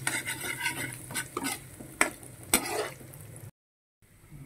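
Garlic sautés in a pan for Kapampangan-style burong isda, with a soft sizzle under close scraping and stirring clatter from a utensil, ending abruptly.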